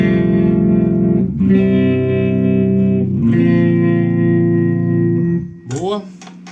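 Mesa Boogie Tremoverb guitar amp with its tremolo effect engaged, a sustained electric guitar chord pulsing in volume, loud and close, with a brief lower burst of other sound near the end.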